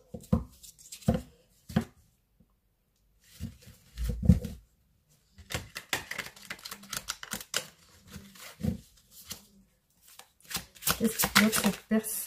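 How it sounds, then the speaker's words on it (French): Playing cards for a card reading are reshuffled in repeated crisp riffling bursts, separated by quiet pauses and growing busier toward the end, close to the microphone. "on va essayer de retrier les cartes"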